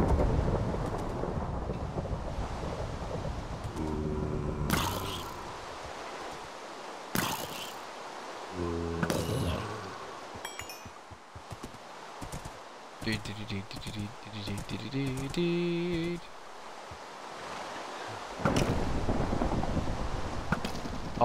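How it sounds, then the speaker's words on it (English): A Minecraft thunderstorm brings several sudden broadband cracks and rumbles of thunder over a windy, rainy backdrop. A voice speaks intermittently between the strikes. "Lightning almost struck me."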